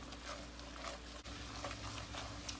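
Ingredients for honey garlic salmon caramelizing in a frying pan, a steady soft sizzle with a utensil stirring and scraping at close range, quiet and continuous, with one brief dip midway.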